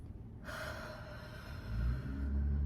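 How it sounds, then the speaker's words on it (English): One slow, deep breath drawn in through the nose and held, a soft airy inhale heard close and alone in a quiet room. "Kind of take a deep breath"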